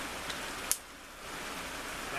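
Steady rain falls around an outdoor campfire setup, a soft continuous hiss with a brief tap or click partway through.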